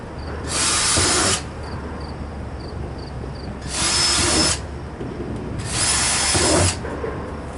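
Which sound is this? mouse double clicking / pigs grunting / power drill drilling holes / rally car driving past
power drill drilling holes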